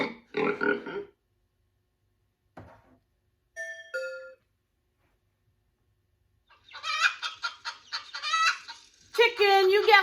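Farm chicken clucking in short bursts, starting with a brief cluck, then a louder run of rapid clucks and a final squawk-like call, with a doorbell-like chime partway through.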